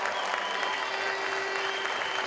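Indoor crowd applauding a teammate at a hockey jersey retirement ceremony, steady dense clapping throughout, moderately loud with a slight echo.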